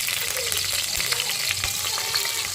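Onions sizzle in a hot pan for an egg-curry meal with beetroot and carrot, a steady, dense frying hiss, close and continuous, with a few soft stirring knocks and no voices.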